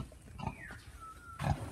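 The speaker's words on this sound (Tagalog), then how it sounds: "Ito po yung baboy." A pet pig grunts twice close by, a short low snort near the start and a louder grunt at the end, with a faint squeaky tone drifting between them.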